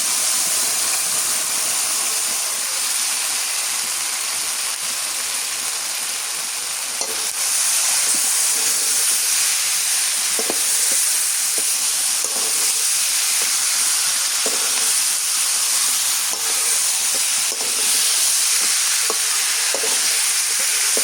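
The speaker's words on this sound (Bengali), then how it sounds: "মশলা কষানো হয়ে গেছে এখন গোস্তগুলো দিয়ে দিই" Country rooster meat sizzles and hisses in spiced masala in a pan, a loud, steady frying crackle with occasional stirring scrapes and bursts of steam throughout, no voices.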